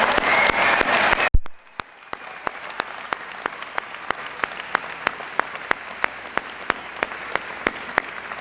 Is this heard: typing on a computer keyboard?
no